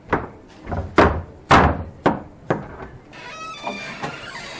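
A door is handled in a home: a series of sharp wooden thumps and bangs, about six close, loud knocks or slams in quick succession, followed by a fainter rustling clatter.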